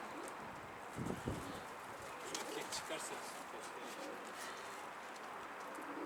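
A racing pigeon coos faintly beneath people talking nearby, with light rustling and a few soft knocks in the background.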